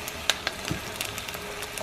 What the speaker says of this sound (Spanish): Miren, cuando lo vean así ya están los chiles, hay que ponerle la cebolla